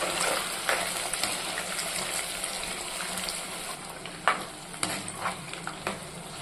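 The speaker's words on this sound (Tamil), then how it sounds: "சின்ன வெங்காயத்தை கண்ணாடி பதம் வரும் வரைக்கும் நல்லா வதக்கிக்குவோம்." Shallots sizzle and crackle softly as they sauté until translucent in a hot pan for garlic thokku, with occasional stirring scrapes and light clatter, steady and close.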